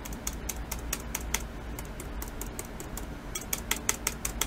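A Teclast F5 laptop space bar gives a run of sharp, clicky presses in an irregular rhythm, close up, with no talk over them.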